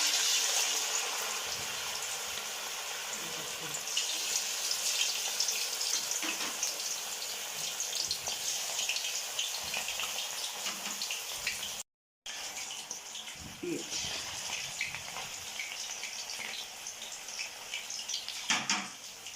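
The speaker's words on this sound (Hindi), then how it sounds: "ऑयल हमारा जो है ना वो गर्म हो चुका है। तो अब इसको मैं करती हूँ फ्राई।" Chicken pakoda pieces deep-fry in hot oil, a loud, steady bubbling hiss that fills the whole stretch, broken only by a brief dropout partway through.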